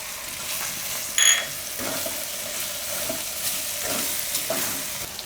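Spices and gram flour stirred in a hot pan, a steady sizzle with repeated scraping strokes of a spoon against the pan and a brief metallic clink near the start, close and clear.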